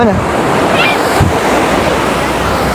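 Loud, continuous rush of surf with wind buffeting the microphone, waves washing in close by.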